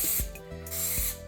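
Cleaner sprays onto a handbag in short hissing bursts, close up, with faint rubbing between the sprays.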